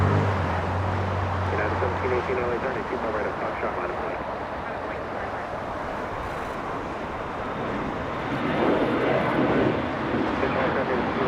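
An airplane at Los Angeles International Airport, a SkyWest flight, fills the air with a steady broad roar that swells slightly near the end, with voices talking underneath.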